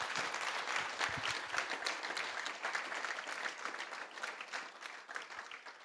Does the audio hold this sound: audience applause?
yes